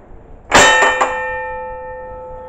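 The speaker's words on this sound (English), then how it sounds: "here is the signal bell, and it does sound right good." An engine's signal bell gives a loud, close metallic clang, struck twice in quick succession, then rings out in a long, clear fading tone.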